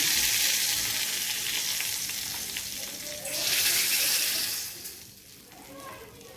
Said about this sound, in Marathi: आपलं हे तेल चांगलं तापलं त्यामध्ये जिरं घालायचं आणि त्यावर टाकायचं